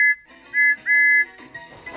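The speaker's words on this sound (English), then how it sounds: "Something's funny about my whistle!" A cartoon tank engine's odd, wobbly whistle echoing in a tunnel, two or three sustained high pitched toots with short breaks, close and clear.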